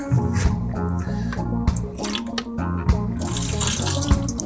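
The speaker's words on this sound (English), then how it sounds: "let's go ahead and get us some clean water here." Tap water runs steadily into a container to rinse a freshly dressed sharpening stone, a continuous loud splashing stream lasting several seconds with no talk.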